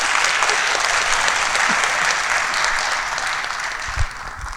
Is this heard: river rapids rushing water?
no